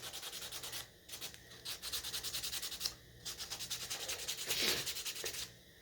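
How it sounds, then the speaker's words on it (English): Steady back-and-forth hand sanding, rhythmic rasping strokes with a few brief pauses, close and fairly quiet. "A little love sanding here."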